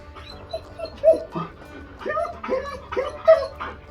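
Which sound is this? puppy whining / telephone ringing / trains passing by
puppy whining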